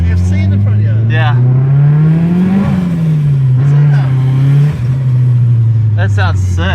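A turbocharged car drives past a house, its engine note rising and falling steadily as it goes by, with people chatting over it and voices toward the end.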